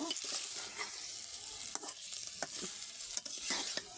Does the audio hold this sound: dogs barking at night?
no